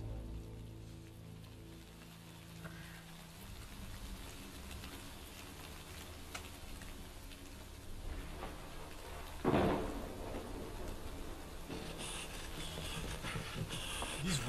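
Steady rain and rolling thunder from the video game Shadow of Mordor, a constant wash of rainfall with a sharp thunder crack near the middle and brighter gusts toward the end, no voices.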